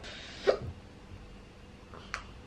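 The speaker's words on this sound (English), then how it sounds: "just got the hiccups from..." Two sharp hiccups from a person after eating spicy chilies, the first at close range and stronger, the second about a second and a half later and fainter, with a quiet room between them.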